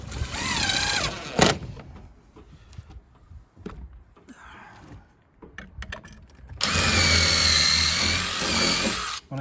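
Screw driven through a Simpson ICF rim joist hanger on a Nudura ICF house build, a loud power driver whirring in two bursts, a short one at the start and a sustained one near the end, with quieter handling noises between.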